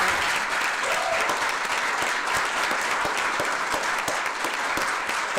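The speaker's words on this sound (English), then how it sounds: "If I could have a round of applause for these wonderful students." A room at a council meeting breaks into sustained applause for students, dense clapping from many hands held evenly throughout.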